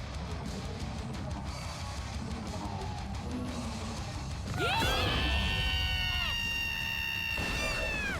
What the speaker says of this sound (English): Too much screaming, please.